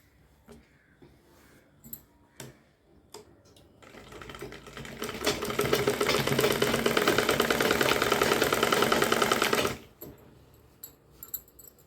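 A sewing machine stitches a lining into a blouse in one steady run of several seconds, loud and close, framed by brief clicks and handling noises before and after.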